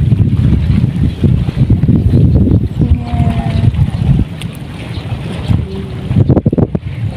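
Strong wind buffets the microphone steadily outdoors for the whole stretch, with a roaring low rumble and brief faint tonal sounds in the middle.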